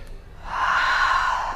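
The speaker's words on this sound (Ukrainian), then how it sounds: "Вдих, видих." One long, loud breath during a yoga breathing exercise, a steady airy rush that swells and holds for over a second, close to the mic, with no talk.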